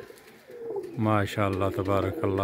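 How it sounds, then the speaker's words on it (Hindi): Rare pigeon breeds, including a Balochi breed, coo in a close series of deep rolling calls, several in a row, after someone speaks briefly at the start. "ये मैं अपने पसंदीदा कबूतरों का आपको शौक़ करा रहा हूँ"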